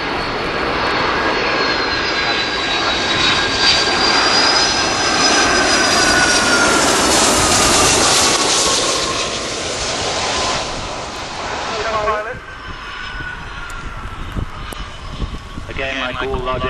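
A Boeing 757-200 jet airliner flying an airshow display at RIAT 2009, its engines roaring loud and steady as it turns downwind, then fading with a whine, under a commentator's voice.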